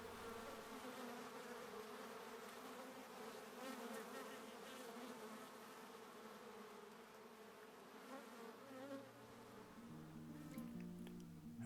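A dense, steady buzzing of many honey bees crowds around a bee venom collector with a glass plate, the close insect drone continuous and fairly even throughout.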